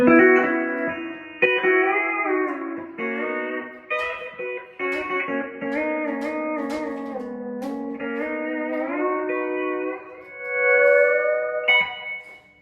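A clean, sustained pedal steel guitar plays gliding chords and melodic lines with smooth slides and a slight reverb tail, alone with no talking.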